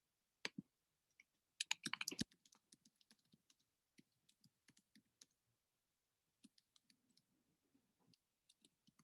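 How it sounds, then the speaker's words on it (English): Quiet keystrokes on a computer keyboard come as a quick burst of rapid typing, followed by sparse, scattered clicks spread out over several seconds, soft and close. "I was just typing some feedback based on what I saw"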